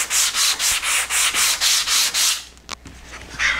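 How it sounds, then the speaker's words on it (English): Wooden toy toolbox pieces being sanded by hand, a steady series of about ten close, rhythmic rubbing strokes that stop near the end, followed by a couple of light knocks and a final short rub. "Now that we have all the pieces cut and shaped, we need to make sure they're all sanded."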